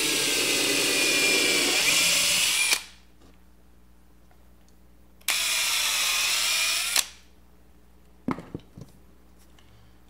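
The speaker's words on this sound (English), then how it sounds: "basically what we're doing is just drilling a little pilot hole" A power drill bores a small pilot hole into a rubber hockey puck, making two sustained, close whirring bursts separated by a pause and followed by a few faint clicks, with no talking.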